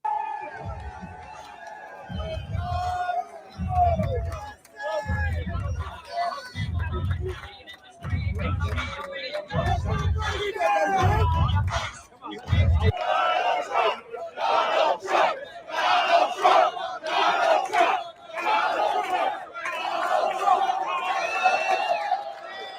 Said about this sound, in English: So, I mean, you can see that crowd there.